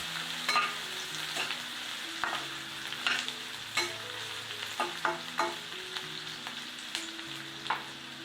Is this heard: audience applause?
no